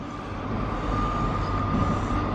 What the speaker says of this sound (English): Train just come in over there